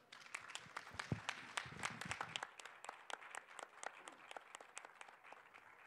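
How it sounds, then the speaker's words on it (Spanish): An audience at a book-fair talk, FIL Texcoco 2024, applauds steadily, many hands clapping in a dense, even patter that lasts several seconds at a moderate distance. "Vamos a recibirlos con un fuerte aplauso."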